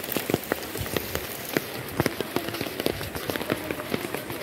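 Rain patters on a vehicle while driving slowly through a wet road, with dense irregular drops close by and a faint low rumble beneath.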